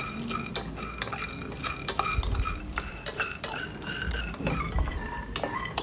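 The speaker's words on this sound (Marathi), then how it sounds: "आता त्याच कढईमध्ये एक वाटी शेंगदाणे भाजून घ्यायचे आहे मीडियम फ्लेमवर" A spoon stirs and scrapes one bowl of peanuts roasting in a metal kadhai over medium flame, giving repeated close clinks and rattling scrapes in an uneven rhythm.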